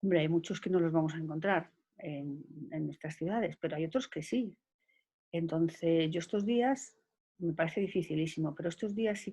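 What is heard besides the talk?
No everyday noises stand out.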